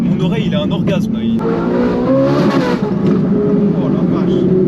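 A Ferrari 458 Italia naturally aspirated V8 with an IPE exhaust revs up and holds a rising, throaty roar, heard close, with people talking over it.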